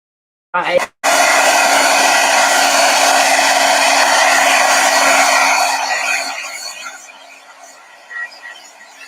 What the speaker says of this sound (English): What I do is partway through, I will hit it with a heat gun.